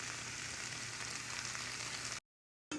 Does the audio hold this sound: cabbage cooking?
yes